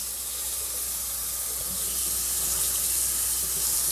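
A kitchen tap runs into a salad spinner bowl while lettuce is being washed, giving a steady, fairly loud hiss of water that brightens slightly as the bowl fills.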